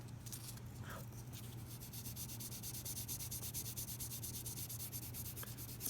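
Fine 1000-grit sandpaper rubbing steadily along guitar frets during a fret-leveling setup, a soft continuous scratchy hiss with faint rhythmic strokes, close and quiet throughout.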